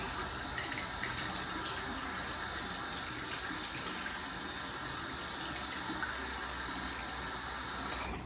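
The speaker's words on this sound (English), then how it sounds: "All right, I'm gonna rinse the face." Water runs steadily from a tap as the face is rinsed after a wet shave, a continuous hissing splash with light irregular splashing, fairly faint and close.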